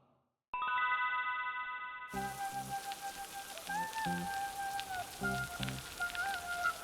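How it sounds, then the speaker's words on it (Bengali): Steady animated-cartoon rain patters and hisses alongside a light tonal melody, with a few soft thumps now and then. "এই যে বৃষ্টিতে ভিজে ভিজে যাচ্ছি"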